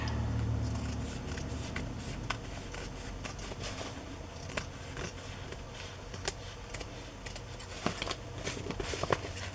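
Scissors trim the overhanging cover material of a Victorian-themed journal, producing repeated close snips and paper rustles over a steady room background.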